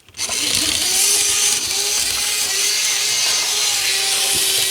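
An old N scale brass diesel model locomotive with oxidized wheels runs around the track, giving a steady, loud motor whine with a scraping rattle that continues unbroken throughout.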